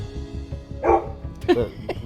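A dog barks a few times nearby, short sharp yaps spaced irregularly across a couple of seconds over a steady low hum.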